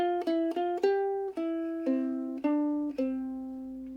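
A plucked fingerstyle melody of single notes on a ukulele, about nine notes at an easy pace, each ringing briefly, close and clear.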